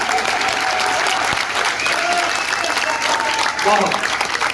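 Applause from an audience at a Hindi-Bhojpuri comedy poetry event in Buxar, a dense, loud wash of clapping hands filling the moment, with a voice faintly present underneath.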